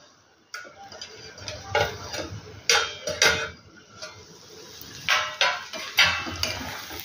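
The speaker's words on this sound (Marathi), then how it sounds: "डाळ थोडी वाफवली की तव्यावरचे झाकण काढून" A metal lid comes off a tawa in which moth bean dal is steaming, giving a few sharp clanks and scrapes scattered across the clip with quieter kitchen noise between.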